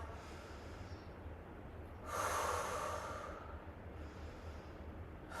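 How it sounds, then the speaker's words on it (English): Heavy breathing during an arm workout, a slow intake through the nose followed by a louder, airy exhale through the mouth, close and alone over a steady background hiss. "Breathe in through your nose slowly,"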